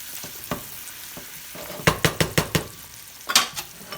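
A spinach and garlic omelette mixture sizzles in a pan while being stirred: a soft frying hiss under a quick run of five sharp scraping strokes, a pause, then a few more scrapes near the end, close and clear.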